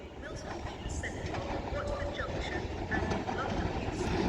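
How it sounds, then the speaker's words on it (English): An Avanti West Coast class 390 Pendolino pulls into Crewe station on the West Coast Main Line, a steady broad rumble that holds throughout, with faint background voices mixed into the platform ambience. "Now arriving in is going to be the 14:59 Avanti West Coast service to London Euston via Birmingham New Street with a class 390 Pendolino."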